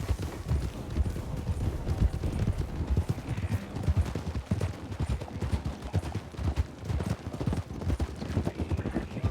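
Horse hooves clip-clop rapidly and continuously during a ride in a Wild West roleplay game, loud and close, with scattered gunfire sounds and voices occasionally talking.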